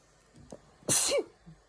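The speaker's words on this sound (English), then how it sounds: "I'm going to sneeze" A single sharp sneeze bursts out after a quick intake of breath, close and loud, followed by a brief exhale.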